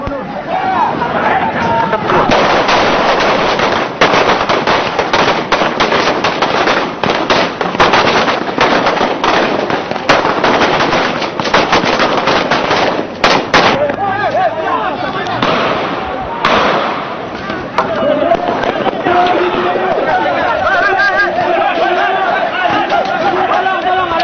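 Gunfire rings out as police fire on protesters at Sape harbour, a long run of sharp, loud cracks in irregular bursts mixed with crowd shouting, chatter and running, tapering into scattered shots and voices.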